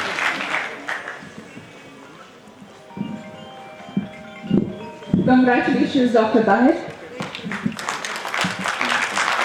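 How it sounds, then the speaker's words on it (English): An audience at a felicitation ceremony for IAS/JKAS exam rank holders applauds a rank-14 doctor: crowd clapping swells at the start and again near the end. Between the bursts, a voice speaks and music plays. "A big round of applause for Tahir."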